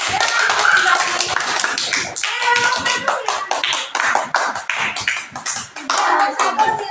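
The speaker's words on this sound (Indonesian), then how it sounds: "Sekarang beri tepuk tangan untuk kelompok 2." Classroom applause for a student group that has just presented, a scattered patter of hand claps from a small group lasting several seconds, with some voices mixed in.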